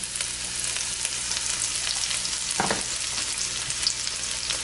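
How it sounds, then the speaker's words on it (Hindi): Garlic and green chili sauté in hot oil for a chicken Manchurian sauce, a dense, even sizzle running the whole time with one brief scrape midway and no voices. "हमें यहाँ पर गार्लिक को लाइट ब्राउन होने तक तेल में सॉट कर लेना है"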